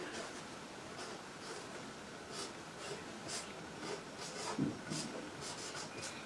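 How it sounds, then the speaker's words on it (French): Marker or pen scratching out the Greek word agapé on a board, a faint run of soft rubbing strokes in a quiet room with a low background hiss. "Je l'écris en grec."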